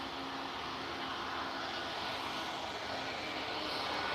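A TAP Air Portugal airliner touches down with a slight bump. Its engines give a steady, broad roar that stays fairly distant and constant throughout, with no talk.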